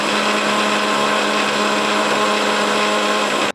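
A kitchen mixer grinder blends coconut chutney with salt and a little water, giving a loud, steady, high whirring roar that holds evenly for a few seconds and then cuts off abruptly, with no voices.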